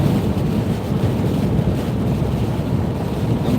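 Crosswind buffets a car driving at night in rain on an exposed hill road near Stalybridge, a dense, continuous low rumbling roar of wind and road noise, steady and loud, with no talking.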